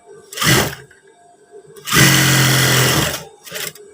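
Sewing machine stitching a pair of long trousers: three separate bursts of loud motor whir, a short one, a longer run of about a second, then a brief final spurt, close and alone.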